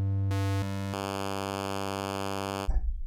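A u-he Hive 2.1 software synth plays a wavetable starting from a sawtooth in one-shot mode, giving a loud, steady buzzing tone whose timbre steps through a few changes before settling and briefly breaking up at the end.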